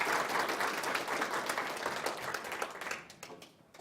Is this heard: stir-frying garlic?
no